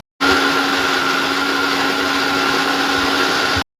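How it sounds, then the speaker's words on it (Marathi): A mixer grinder whirs loudly and steadily for a few seconds grinding coriander and garlic, starting and stopping abruptly, with no voices. "मी याला आता वाटणार आहे चांगल्यापैकी"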